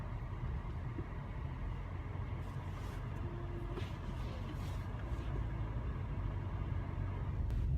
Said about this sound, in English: I'm driving, we're driving 15 miles per hour